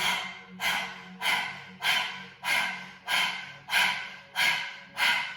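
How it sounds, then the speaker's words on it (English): Rapid yoga panting breath with the tongue out, nine strong rhythmic exhalations about every half second, close and breathy, each with a sharp onset that fades quickly. "Stick the tongue out and we're gonna pant."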